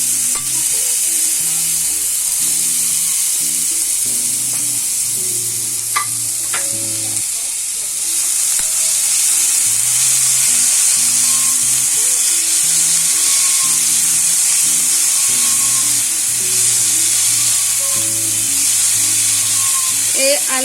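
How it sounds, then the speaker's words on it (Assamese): Potatoes fry in refined oil for a potato chutney, giving a loud, steady sizzle and bubbling crackle that runs the whole time, with occasional stirring clinks and faint low voice-like sounds underneath. "এতিয়া মই ইয়াত আলুখিনি দি দিম।"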